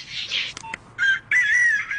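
A mobile phone ringtone of a rooster crowing plays loudly and close, in two or three bright, drawn-out crowing bursts with short gaps between them.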